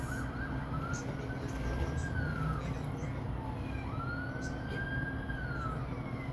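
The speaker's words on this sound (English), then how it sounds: "Now that I hear a freaking police car" A police car siren wails in rising and falling sweeps, held steady and fairly loud over a dense background of noise for the whole stretch.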